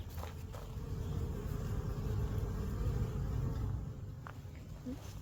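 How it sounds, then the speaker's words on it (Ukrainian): Honey bees flying around a beehive outdoors on a warm sunny day, a dense continuous low buzzing swarm close by, swelling slightly in the middle, with a few faint clicks and no talking. "День космонавтики і наші бджілки літають."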